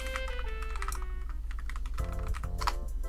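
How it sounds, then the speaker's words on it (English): Rapid typing on a computer keyboard while entering fastboot commands to unlock a Sony Xperia 1 III bootloader, a dense run of close, crisp key clicks with no talking. "we'll have to type in Fastboot devices"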